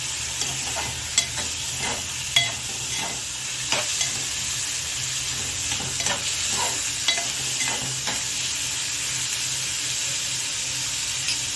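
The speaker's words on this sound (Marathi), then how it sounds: "लसूण आणि कांदा व्यवस्थित आपल्याला परतवून घ्यायचा आहे." Garlic and onion sautéing in a pan for a bombil (Bombay duck) chutney: a steady oily sizzle throughout, with occasional spoon scrapes and stirring knocks at intervals.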